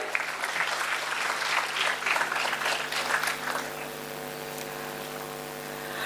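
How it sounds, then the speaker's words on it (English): A conference audience claps steadily for several seconds, the applause fading into a low hum near the end. "A huge round of applause for him as well."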